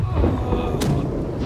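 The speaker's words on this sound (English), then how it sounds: "Right side cannon fire" Ship cannon fire in the naval game Blackwake, a single sharp blast cracking out over a constant rumbling, noisy din of battle, close and loud with no voices on top.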